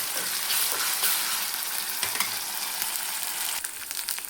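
Mutton pieces frying in a pan give a loud, steady sizzle and crackle, with occasional stirring scrapes near the end, close up and without talk.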